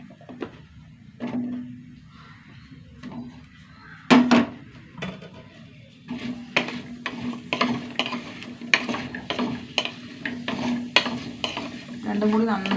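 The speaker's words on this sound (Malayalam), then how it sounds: "രണ്ടും കൂടി നന്നായി വഴറ്റിയെടുക്കുക കേട്ടോ" Brinjal and drumsticks sautéed in a pan, a spatula scraping and clinking steadily against the metal over a soft sizzle, close and moderately loud with no speech.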